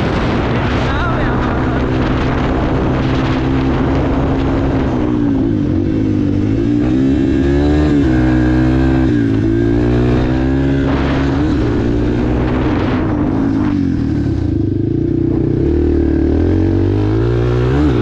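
A Yamaha TTR 230 motorcycle engine revs loudly and steadily, with repeated throttle surges and rising and falling pitch, close by throughout with no talking.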